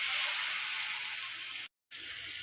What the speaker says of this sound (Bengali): তেল দিয়ে দিচ্ছি, সর্ষার তেল, শুকনো লঙ্কা ফোড়ন দিয়ে দিচ্ছি